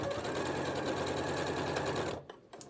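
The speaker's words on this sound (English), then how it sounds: "I'm ready to start sewing." A domestic sewing machine stitches a keychain wristlet at a steady, fast, continuous whir close by, then stops abruptly near the end, leaving a few faint clicks.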